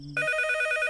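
A landline telephone rings in a home with a loud, steady electronic tone that starts abruptly and holds for nearly a second, alone with no voices.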